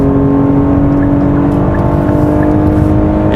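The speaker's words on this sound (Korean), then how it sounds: "근데 풀 가속을 해보면은" A Kia K8 sedan with a 3.5-litre LPG engine pulls hard at full throttle, its steady engine roar and road noise loud and constant throughout; no talk.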